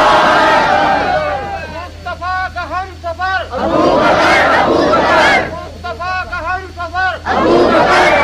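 A large crowd at a religious gathering shouts a slogan in loud unison bursts, call-and-response waves of massed voices rising and falling several times, close and powerful with a steady hum beneath.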